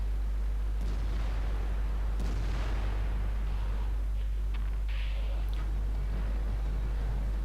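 In World of Tanks, the STB-1 tank's 105mm gun fires a few muffled booming shots over a constant heavy low engine drone, with no voices.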